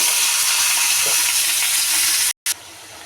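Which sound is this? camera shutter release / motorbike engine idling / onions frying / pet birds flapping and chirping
onions frying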